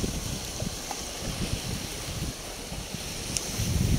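Steady wind rushing over the microphone at a rocky seashore, with a low rumble of surf underneath, constant and fairly loud, with no talk.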